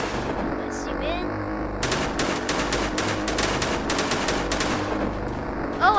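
Rapid machine-gun bursts fire in a biplane dogfight video game, sustained rattling volleys over an engine drone, loud and close for several seconds.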